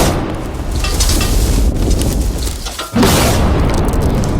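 A TNT charge detonates inside a safe, a sustained loud roaring blast with a brief dip near three seconds, then a second heavy burst of rumble continuing to the end.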